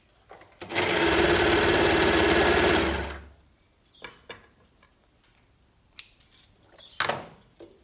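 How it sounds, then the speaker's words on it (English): A Brother Lock 2504D overlocker sews trouser crotch seams in one loud, continuous two-second burst close by, then stops, followed by soft handling clicks and rustles of fabric. "I'm going to use the overlocking for the crotches"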